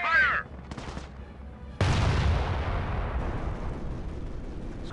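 Gunfire and heavy artillery in the World War II strategy game Company of Heroes, played on Android: a short burst of shots, then a loud blast that rolls into a long, sustained rumble of battle noise.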